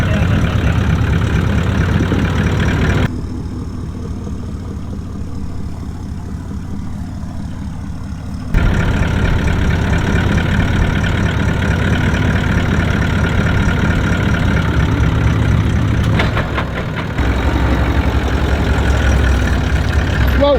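A 4x4 off-road vehicle's engine idles steadily and close by, a continuous low rumble that dips briefly and then resumes, with no voices over it.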